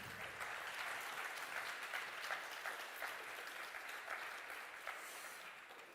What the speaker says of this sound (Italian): potete anche applaudirlo nel caso